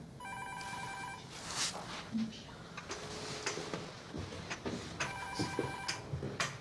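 A telephone rings in two clear bursts at the start and near the end, with rustling, footsteps and room movement in between, and people talking softly nearby.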